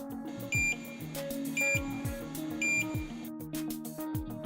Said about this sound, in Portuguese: Um bip sonoro é acionado durante aproximadamente 3 segundos